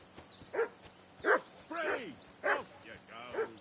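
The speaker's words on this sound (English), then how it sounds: "I assume you can hear that damn dog of yours barking." A dog barks in the video game Kingdom Come: Deliverance II, a series of five fairly faint, evenly spaced woofs and yips heard alone against a quiet background.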